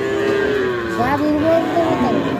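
A dairy cow lets out a long, low moo at Chupai cattle market, where she stands with her calf, over steady background chatter and crowd noise.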